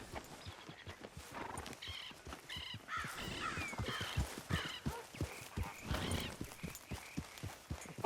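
Video game sounds: galloping horse hooves pound in a quick rhythm, joined by crow caws and a horse whinny over a faint outdoor backdrop.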